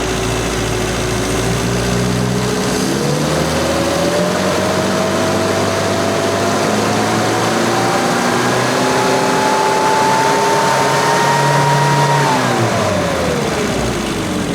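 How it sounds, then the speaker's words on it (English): A car engine fitted with SU carburettors holds a steady idle, then the revs climb gradually in stages to a higher pitch before dropping back down, continuous and close throughout. "I'll just bring the revs up"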